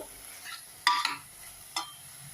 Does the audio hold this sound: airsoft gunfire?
no